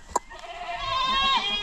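Goat bleats in a barnyard setting, one short cry near the start followed by a longer, wavering bleat that rises and falls, fairly close and clear over faint background noise.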